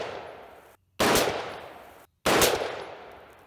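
Rifle gunshots at an outdoor range, firing 60 grain V-MAX handloads: two loud, sharp reports about a second and a half apart, each with a decaying echo tail over steady background noise.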